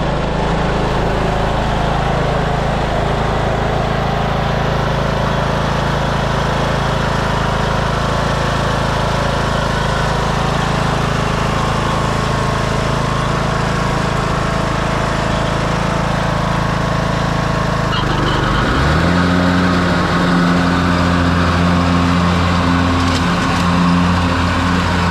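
A Troy-Bilt riding lawn mower with a newly replaced PTO blade engagement cable runs steadily nearby, a loud continuous engine drone that shifts to a deeper, heavier tone partway through, as if the blades engage.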